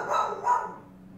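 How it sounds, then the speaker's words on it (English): A dog barks twice in quick succession indoors, a short loud pair of woofs fading into quiet room tone. "Ignore the pupper in the background. She is quite loud."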